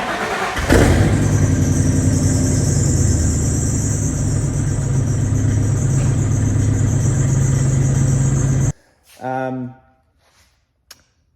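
A cold 1995 Ford F250 engine cranks and fires within the first second, then idles loud and steady for several seconds before the sound cuts off abruptly, followed by brief, quieter noises.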